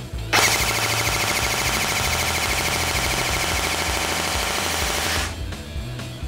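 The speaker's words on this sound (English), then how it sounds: "The sound made by the shots shouldn't be neither low nor high pitched." An airsoft AEG replica fires a long continuous full-auto burst of rapid shots lasting about five seconds, loud and close, with a sharp mechanical buzz and quiet handling noise before and after.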